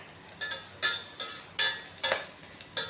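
A tomato curry cooks in a pan, with a low sizzle under a series of about seven sharp, evenly spaced spoon scrapes and taps against the pan, close and without voices.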